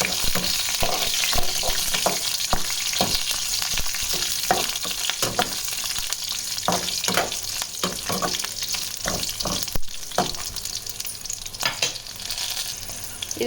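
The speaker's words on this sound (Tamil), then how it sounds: "இப்போ இதில் ஆட் பண்ணலாம் காஞ்ச மிளகா, புளி, அதுக்கப்புறமா நம்ம கட் பண்ணி வச்சுருந்த பச்சை மிளகா. இது எல்லாமே போட்டு நல்லா சாட்டே பண்ணணும்." Dried red chillies, tamarind and chopped green chillies sauté in a hot pan for a gongura chutney, a steady crackling sizzle broken by frequent scraping stirs of a spoon against the pan, close and continuous with no talking.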